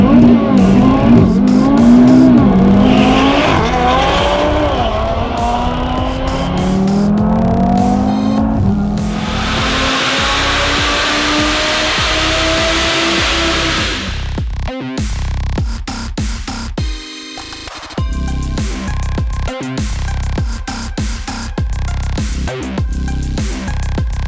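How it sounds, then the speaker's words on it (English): A tuned 2.5L Audi TT RS runs up its rising engine note with tire squeal for a burnout, then a harsh roar as it launches. The revving and screeching are loud and close, followed by engine noise fading away. "Turn the hazards on, do a burnout, turn them off again, check I'm in the right map, and then launch it"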